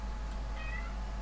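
A housecat meows close by, a short high cry over a low steady hum from a room where an Aliens: Colonial Marines shooting-gallery test is running.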